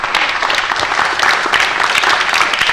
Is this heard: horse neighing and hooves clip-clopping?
no